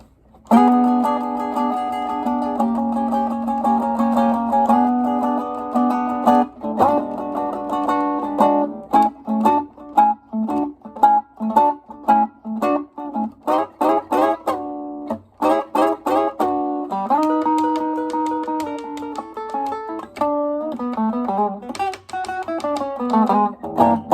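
Electric guitar plays a second 12-bar chorus of early Chicago-style blues: sustained chords give way to choppy, rhythmic picked notes and quick lead runs, played solo, clear and steady without any talking.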